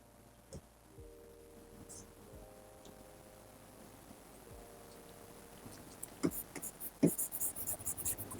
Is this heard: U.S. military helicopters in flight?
no